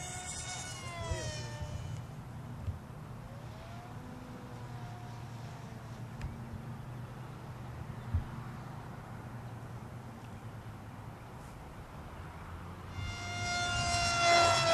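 Striker RC airplane engine at full throttle: a thin, whining drone that rises and falls in pitch as the model passes, with a loud close whine swelling again at the end, and voices faint in the background.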